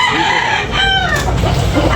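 A rooster crows loudly and close by at a morning chicken market in Tabunok, Cebu, amid constant clucking and crowing from other fowl nearby.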